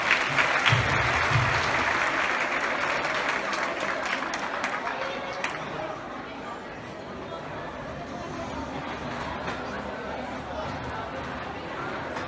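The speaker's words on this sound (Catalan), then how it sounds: "Un fort aplaudiment." An audience claps warmly after a school festival performance by secondary students, a full, steady round of applause that holds for over ten seconds and eases slightly toward the end.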